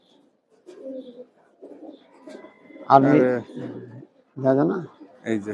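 A tournament-playing pigeon kept at a home loft gives soft, close, repeated coos in short bursts, with someone speaking between and over the calls.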